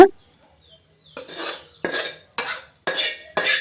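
Fried bitter gourd poriyal is scraped from a pan into another vessel with a metal spoon: five rhythmic scraping, clinking strokes, close and clear, after a brief quiet start.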